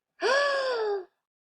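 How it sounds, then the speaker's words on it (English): A single sharp voiced gasp from a mouse character, drawn in quickly and held for about a second, then cut off into silence; a human voice acting the part of the mouse. "Mouse saw Snake and gasped."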